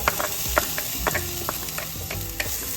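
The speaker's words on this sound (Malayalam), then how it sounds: "കുറച്ചുകൂടി ഓയിൽ വെച്ച് കൊടുക്കാം. നമുക്കിതിലേക്ക് ഉള്ളി ഇട്ട് കൊടുക്കാം." Onion frying in oil in a pot, with a steady crackling sizzle broken by repeated scraping stirs and clinks, close and moderately loud.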